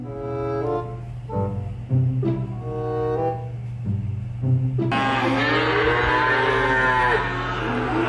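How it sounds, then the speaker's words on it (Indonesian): Several long, deep moos from a dairy cow in the video game Jurassic World Evolution 2, one after another, then a harsher drawn-out bellow; loud and close with no speech. "Yang ini sapi perah"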